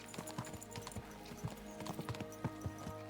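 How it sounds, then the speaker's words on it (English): Horses gallop in the video game Kingdom Come: Deliverance II, hooves clip-clopping in a quick uneven rhythm, moderately close over a low ambient background. "Let's really spur these horses on, eh?"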